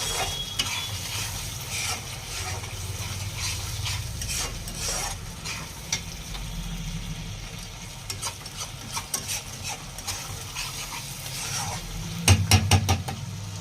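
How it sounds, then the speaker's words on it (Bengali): Prawn malai curry is stirred in a pan, with repeated scraping and clinking spatula strokes over a low bubbling simmer, close and steady, and a cluster of sharper metallic taps near the end. "আবার একটু নেড়ে"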